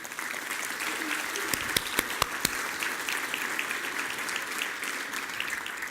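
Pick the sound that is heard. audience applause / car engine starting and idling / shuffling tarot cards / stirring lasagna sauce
audience applause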